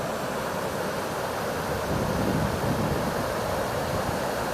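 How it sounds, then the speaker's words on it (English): Constant broadband rumble of wind buffeting the microphone at a beach, with a gusty swell in the middle, loud and unbroken. "Getting a little wind here, so there's going to be some wind noise."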